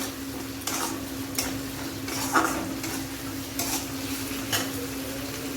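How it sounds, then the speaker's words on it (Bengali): Rice fries with a soft sizzle in a pan while a spatula scrapes and stirs it in irregular strokes, close by and without talk. "চালটাকে একটু ভাজা ভাজা করব।"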